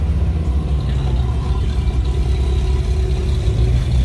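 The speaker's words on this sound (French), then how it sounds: "Alors c'est une Porsche 928 S4 qui a été restaurée par les soins de son propriétaire depuis 2019." A restored Porsche 928 S4 at a historic hill climb, its engine holding a steady, even mid-pitched hum close by for the whole span.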